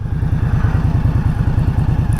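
An Indian Scout Bobber's V-twin engine runs steadily while riding, a loud, continuous low rhythmic throb with even pulsing and a faint clatter on top, with no other sounds.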